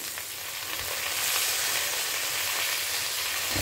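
Lentils fry in a pan with asafoetida and coriander, giving a steady, close sizzle and hiss that holds at an even level throughout, with faint stirring scrapes and no voices.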